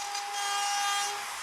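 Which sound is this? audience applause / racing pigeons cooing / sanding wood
sanding wood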